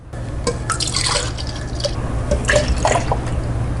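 Cold milk straight from the fridge streams steadily into a container while a rose milk drink is being made, a continuous trickling and splashing pour close to the microphone.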